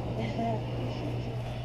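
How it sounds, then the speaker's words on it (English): A plane passing over Bayou Segnette park, a low steady droning rumble that fills the background, loud enough to swamp nearby talk. "I don't know if you could hear me because of the plane."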